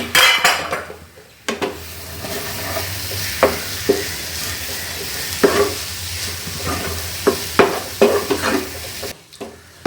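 Dried shrimp and cabbage thoran stirred in a pan over low heat, a spatula scraping and clinking against the metal in irregular bursts over a steady low sizzle, close and fairly loud with no talking.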